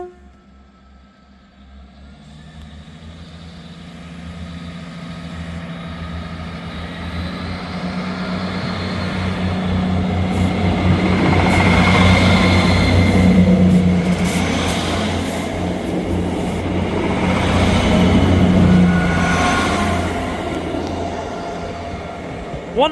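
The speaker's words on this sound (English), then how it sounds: "Departing out now is the 1348 ScotRail service from Perth to Edinburgh Waverley." ScotRail Perth to Edinburgh Waverley train, class 158 unit, pulling out of Ladybank station: a diesel engine rumble builds from quiet to a loud, sustained roar with wheel and rail noise as it passes, then eases slightly.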